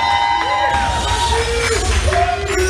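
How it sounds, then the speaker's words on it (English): A lively student crowd at a Take Me Out–style live dating show cheers loudly and steadily, with rising whoops and shouted calls standing out over a dense roar of voices. "Round of applause, ladies and gentlemen"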